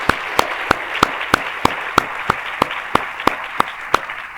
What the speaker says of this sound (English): Let's thank them and applaud them as a group for doing good.